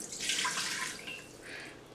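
Chicken broth pours into a pot for chicken pot pie, a continuous splashing, gurgling liquid stream close by with no talking.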